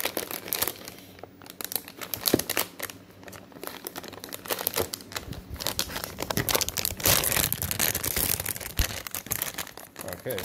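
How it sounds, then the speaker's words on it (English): Crinkling and rustling of packaging as an RTX A2000 graphics card is pulled free, steady close crumpling with occasional sharper tearing bursts and no speech. "Go ahead and pull the actual card out."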